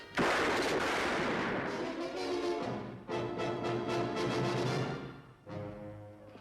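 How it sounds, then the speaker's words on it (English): A gunshot in a western drama, a loud sharp blast that rings on with a long rolling echo, followed by a second burst, heard alone at close range without talk. "My gun went off."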